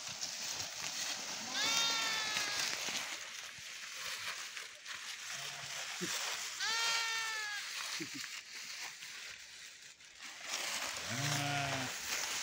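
Sheep come back from grazing in the forest and enter their pen, with several loud, wavering bleats spaced over a few seconds against steady outdoor noise.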